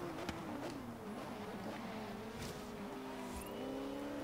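A Porsche racing in Forza Horizon 3, its engine note climbing and shifting through gears with tonal whines sweeping up and down, heard steadily and fairly faint.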